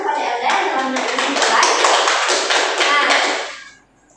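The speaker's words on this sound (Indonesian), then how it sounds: "Berikan tepuk tangan kepada Elda yang telah menulis" A classroom of students applauds a classmate during a mathematics lesson, a burst of quick clapping that builds, holds and then tapers away, with voices mixed in.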